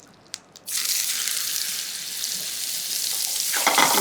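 A steak hits browned butter in a pan over high heat: a few quiet clicks, then a sudden loud sizzle that holds steady and swells toward the end.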